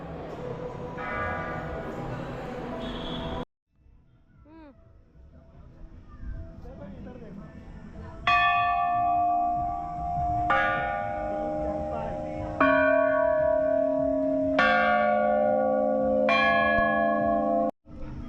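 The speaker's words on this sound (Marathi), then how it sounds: "तर मस्तपैकी घंटा वाजवलेला आहे. 4 प्रकारचे घंटा वाजवलेला मस्त 5 प्रकारचे घंटे आहेत. तेही वेगवेगळा आवाज येतो." Temple bells at the Pitra Parvat Hanuman temple in Indore, several different bells rung one after another in clear bursts with long ringing tones, preceded by a few seconds of murmured talk and ambient noise.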